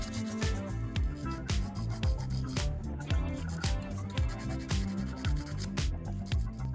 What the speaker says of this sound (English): I'll sand off a bit of oxidation while I'm at it.